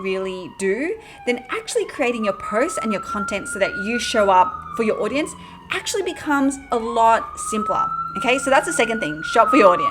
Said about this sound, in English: I don't know if you can hear the New York traffic behind me, but that's what's going on, all those sirens.